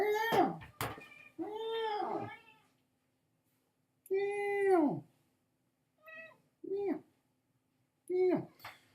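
A cat meows repeatedly, several drawn-out, plaintive cries with pauses between them, fairly close and clear.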